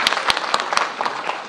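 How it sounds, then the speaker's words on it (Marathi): Just one or two people clap at a political speech gathering: four sharp, sparse claps followed by a few softer scattered ones, brief and thin, with no crowd joining in. "दबक्या आवाजात एक दोन जणांनी टाळ्या वाजवल्या"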